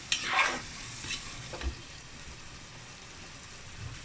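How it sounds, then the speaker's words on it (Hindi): Capsicum tossed into a hot pan and stirred, a burst of sizzling with a few scraping stirs near the start that settles into a quiet, steady fry, no one speaking. "और हम अपनी शिमला मिर्चें इसमें ऐड करेंगे।"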